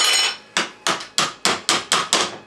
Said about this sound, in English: You can smack it with a hammer or